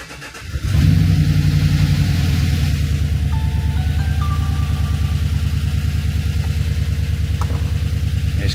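A 5.3 Silverado V8, fitted with a Texas Speed DOD delete kit and tune, cranks and catches, then settles into a loud, close idle with a steady rhythmic ticking clatter.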